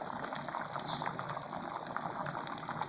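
A pot of seasoned beans boils on the stove, giving off a steady, close bubbling and gentle seething that continues without pause.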